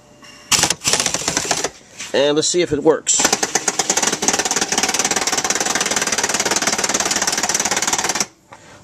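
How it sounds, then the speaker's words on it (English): A pneumatic air hammer set to reverse rattles in a rapid, loud continuous burst for several seconds, after a short spoken line and a few brief test bursts, during a 2006 Jeep Commander trailer hitch installation. "I have my air hammer set to"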